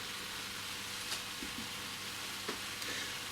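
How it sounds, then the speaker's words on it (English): Beef searing in a dry pan with no oil, giving a soft, continuous hiss and sizzle with a few faint pops and scrapes, close and fairly quiet, with no talking. "Not cooking it, but searing it before it goes in the new Ninja."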